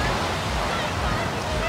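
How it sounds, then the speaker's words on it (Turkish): Rough, choppy sea with waves surging and washing continuously, a steady broadband roar with wind buffeting the microphone, loud and close throughout without pauses. "Şöyle arkadaşlar deniz bayağı bir dalgalı."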